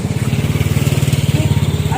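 A motorcycle engine running nearby with a steady, pulsing rumble and rhythmic throb, loud and continuous through the short stretch.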